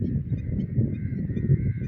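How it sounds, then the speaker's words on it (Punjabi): Birds calling loudly near burned farm fields, a continuous raucous chorus of honking, goose-like cries, fairly close and steady throughout. "ਇਹ ਪੰਛੀ ਆਪਣੇ ਬੱਚਿਆਂ ਨੂੰ ਲੱਭ ਰਹੇ ਨੇ ਤੇ ਰੋਲਾ ਪਾ ਰਹੇ ਨੇ"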